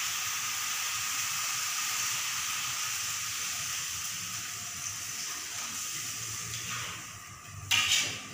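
Water poured into a pan of cooking monitor lizard meat sets off a steady, loud hiss and sizzle that holds throughout, with a brief louder burst near the end and no talk.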